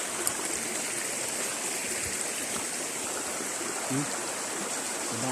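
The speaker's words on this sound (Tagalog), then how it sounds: "Batis." A small stream flows steadily, a constant broadband rush and babble at moderate distance with no talking, plus a faint knock or splash near the end.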